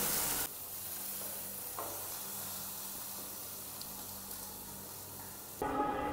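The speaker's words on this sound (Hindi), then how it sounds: "मछली जो है पूरी जो है अच्छे तरीके से फ्राई हो गई है" Small dhawai fish fry crisply in hot oil, giving a steady, fairly soft sizzling hiss that runs almost the whole time, with louder bursts where the sound cuts in and out at the edges and no speech.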